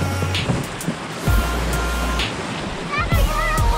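Water sloshes and splashes nearby in uneven surges as it is emptied out of a canoe, with voices talking over it.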